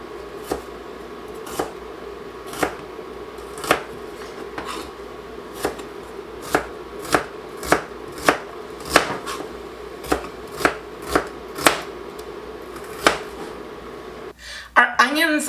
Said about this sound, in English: Our onions are chopped